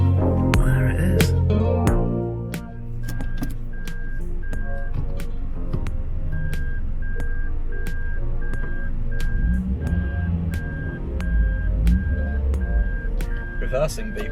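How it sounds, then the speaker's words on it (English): Steady, evenly spaced reversing beeps from a vehicle backing up near a 2004 seventh-generation Toyota Celica VVTi, repeating over roughly ten seconds above rumbling engine and road noise, with people talking. "Reversing beep, that's something a bit weird, isn't it?"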